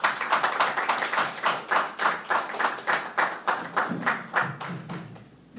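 Audience applause at an evening church talk on end-times events, a steady burst of clapping with regular swells that fades out toward the end.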